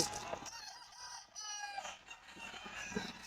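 A Tornado-breed gamefowl rooster crows at a busy pet market, its long cock-a-doodle-doo ringing out near and fairly loud over a clutter of background clucking and crowd noise.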